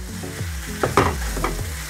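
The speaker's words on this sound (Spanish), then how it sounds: "Aquí voy a freír el chorizo." Chorizo frying in a pan with little oil, close sizzling with several scraping, stirring strokes and crackles over two seconds, no talking.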